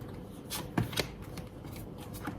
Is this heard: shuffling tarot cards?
yes